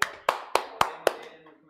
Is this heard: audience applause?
yes